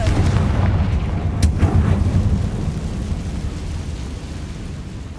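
A Confringo blasting spell explosion in the Hogwarts Legacy video game: a loud burst near the start that settles into a deep, rumbling roar fading over several seconds.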